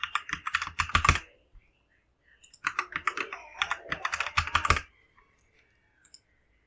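Rapid typing on a computer keyboard, with two dense bursts of close key clatter separated by a short pause, then a few last isolated taps and no voices.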